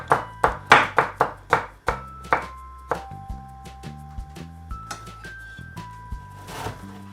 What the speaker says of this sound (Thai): ซอยเห็ดเป็นเปียงบางๆแบบนี้